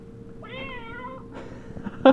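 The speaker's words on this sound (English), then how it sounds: "It meows at you, I guess." A sound chip inside an Exploding Kittens card game box lets out a clear electronic meow, close and fairly quiet, then a softer second note and a click as the box is handled.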